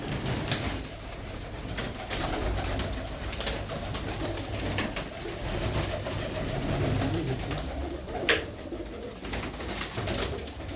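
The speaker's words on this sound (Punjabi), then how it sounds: "ਇਹ ਦੇਖੋ ਕਿੱਦਾਂ ਦੇ ਕਬੂਤਰ ਨੇ" Racing pigeons in Tarn Taran, Punjab, coo repeatedly in low, throaty calls, several birds close by, with scattered clicks and rustles throughout.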